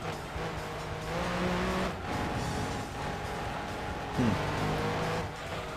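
Race cars drive in Gran Turismo 2, steady engine drone with shifting pitch and a brief tire squeal, all at moderate level with no talking.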